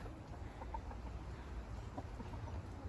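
A chicken clucks softly a few times against a steady low rumble of background noise.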